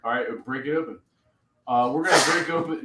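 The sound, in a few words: sneeze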